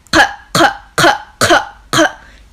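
Five short, forceful fake coughs from a voice imitating the guttural throat q sound of Moroccan Darija, evenly spaced about half a second apart, close and loud.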